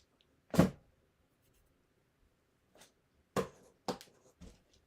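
Scissors snip through sheetrock tape in a quiet room, one crisp cut followed by a few shorter, lighter snips and clicks spaced over several seconds.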